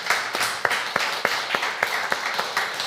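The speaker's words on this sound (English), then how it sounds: "Let's give Tim a round of applause." An audience claps at the close of a yogurt-making class, a small group giving sparse, fairly rhythmic hand claps that stand out as distinct sharp hits over a light room murmur.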